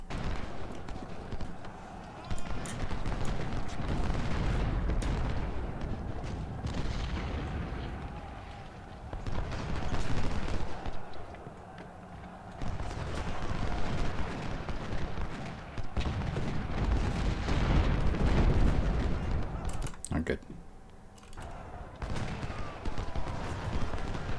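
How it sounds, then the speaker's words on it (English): Deep booming blasts of Civil War cannon artillery fire in a video game roll out at intervals over a continuous rumbling battle din, with a few sharp cracks cutting through. "the cannons have something else"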